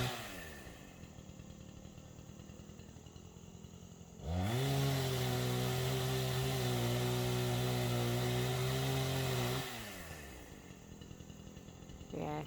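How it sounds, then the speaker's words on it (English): A chainsaw cuts into a dead tree during felling. It idles quietly, then revs to a loud, steady, high-pitched roar for about five seconds before dropping back to idle, with no voices. "Just going to hit it with the chainsaw a little."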